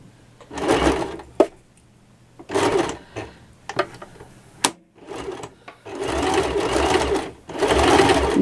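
A sewing machine stitches a large tote bag in several bursts of fast, buzzing stitching separated by pauses and small handling clicks, loud and close.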